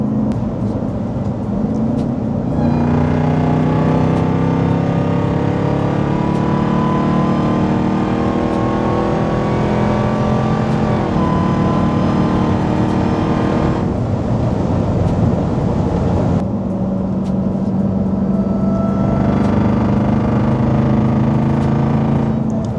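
A Jeep Trackhawk engine with a loud, rising supercharger whine, sustained over revving and acceleration, close and dominant with no talking.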